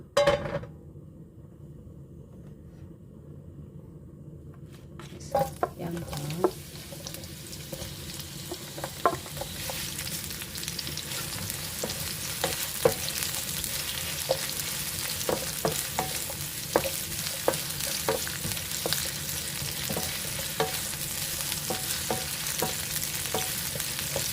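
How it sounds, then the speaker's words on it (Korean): Pork belly and squid stir-fry in a hot pan, sizzling after a brief quiet start and then holding a steady loud hiss, with the repeated scrape and clack of a utensil against the pan and no talking. "삼겹살 볶고 오징어 볶습니다"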